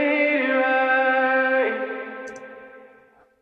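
A sustained sung vocal note is processed with distortion, filtering, delay and reverb, giving it a loud, buzzy, echoing quality. The note shifts down partway through, then fades slowly into a reverberant tail.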